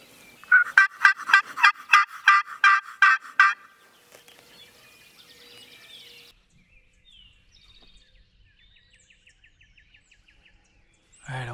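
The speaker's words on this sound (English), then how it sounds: "I'm hearing gobbling this way, up in our north" Wild turkeys gobbling outdoors on farmland during a hunt, a rapid rattling gobble of about ten pulses up front, then fainter distant gobbling and calls trailing off into quiet.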